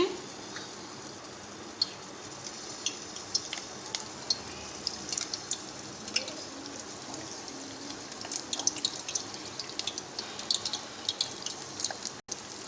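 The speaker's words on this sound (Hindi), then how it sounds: "ये देखें फ्राई हो रहे हैं।" Potato balls deep-fry in hot oil with a faint, even bubbling crackle and scattered small pops throughout, with light voice-like sound underneath.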